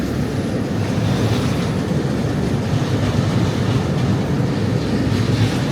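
A SkyTrain passes near a station in Vancouver, a loud, steady, low rumbling roar that stays constant from start to finish, with no voices.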